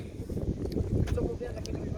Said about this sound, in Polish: Mocno wieje wiatr, ciepło nie jest.